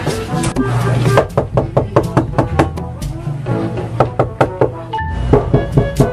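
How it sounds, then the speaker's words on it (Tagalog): Repeated knocking on a door, a series of sharp raps in irregular bursts, loud and close, with background sounds between the knocks. "May kumakatok na naman."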